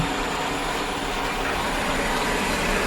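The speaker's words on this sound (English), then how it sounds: "My vacuum is about to vacuum." A vacuum cleaner hums steadily in the background, a constant droning whir with no pauses.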